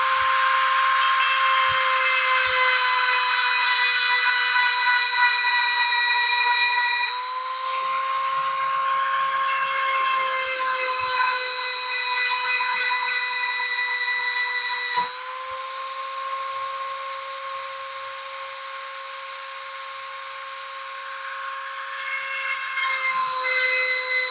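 A chainsaw sharpener grinds a chainsaw chain with a steady, high-pitched motor whine. The pitch dips briefly every few seconds as the grinder bites the teeth. The sound is loud and close, with no talking.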